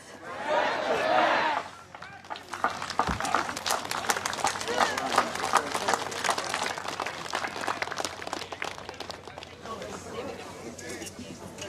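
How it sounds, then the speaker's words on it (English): A rally crowd at an Emergency Services Volunteer Fund protest in Bendigo claps and cheers in a dense, sustained wash, opening with a brief loud burst of shouting before steady applause continues with chatter mixed in. "you've got to give a bigger cheer than that"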